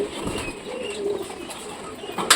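Domestic pigeons kept at home coo softly and close by in short murmuring bursts, with a brief wing flutter near the end.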